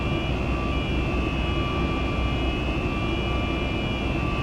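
Simulated Boeing 737 MAX 8 climbing out of Boston after takeoff in X-Plane 12, a steady loud jet engine roar with a constant hum and faint tonal whine, unbroken throughout with no talk.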